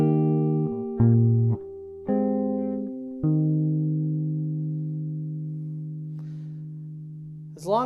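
Fingerstyle guitar picking a few sustained notes and chords from a tune, each pluck ringing out and slowly decaying, played alone and close.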